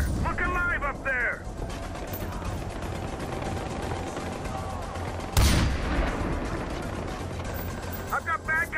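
Gunfire in Far Cry 4 during a firefight, sounding as ongoing scattered shots under radio-style voice chatter, with one loud sharp blast in the middle.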